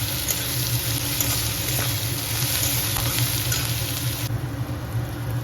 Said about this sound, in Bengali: পেঁয়াজটা যাতে তাড়াতাড়ি গলে যায়, তাতে একটু নুন দিয়ে ভেজে নেব।